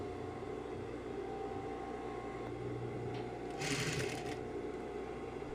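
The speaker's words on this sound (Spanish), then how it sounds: "Y bajamos el pie prensatelas para continuar cosiendo." A sewing machine stitches bias tape onto fabric in a steady, close mechanical whir, with a brief brighter burst of noise near the end.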